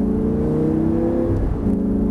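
An Audi R8 accelerates hard around the Abbeville circuit, its engine a loud, steady revving drone with rising harmonics that fills the whole stretch, close and continuous without any talk.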